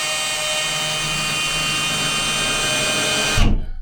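A power drill runs in a steady, loud whine for several seconds, driving screws into drywall in a small enclosed space, then stops abruptly with a brief low thump at the end.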